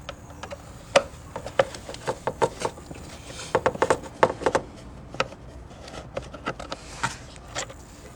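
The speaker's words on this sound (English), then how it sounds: "Now you'll want to get the Phillips screwdriver and take out these two Phillips screws." A Phillips screwdriver backs two screws out of the engine case of a GY6 scooter, giving a string of close, sharp ticks and clicks at an irregular pace with no talking.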